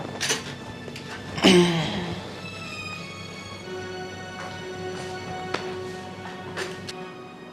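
Metal dishes and pots clatter and clink as they are picked up and handled in a home setting, with one loud clang early on followed by scattered lighter clinks.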